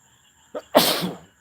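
A single close sneeze, a short breathy intake followed by a sharp burst, over faint background hum.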